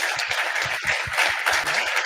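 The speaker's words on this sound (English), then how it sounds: "I'd like you to give them a warm round of applause" An audience at an agricultural expo applauds a wheat farmer, with a short burst of steady, close clapping from many hands that stays even for about two seconds.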